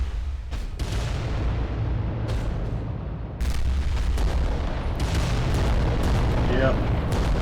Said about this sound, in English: Volcano cannons probably can finish them off.